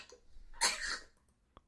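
A single harsh cough, close and loud, in a quiet room, followed by a tiny click.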